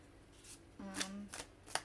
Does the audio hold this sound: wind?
no